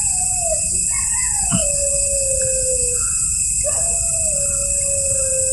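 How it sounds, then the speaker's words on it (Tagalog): A dog howls in long, wavering drawn-out cries at night near a roadside, moderately close over a constant insect-like background drone. "Merong aso na tahol ng tahol."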